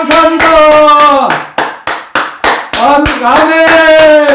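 A church congregation claps in a steady rhythmic beat, sharp hand strikes repeating roughly every third of a second, loud and close, mixed with voices singing or calling out over the clapping.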